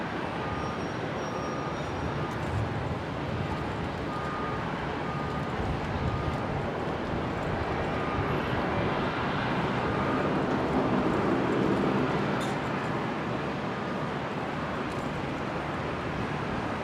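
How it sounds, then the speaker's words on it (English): Dash 8 turboprop aircraft taxiing at Brisbane International Airport, a steady continuous engine drone heard from a distance, even in loudness throughout with no talk. "two Dash 8s there. One just arriving, another one leaving, and there is a third that's just arrived as well. Also taxiing in."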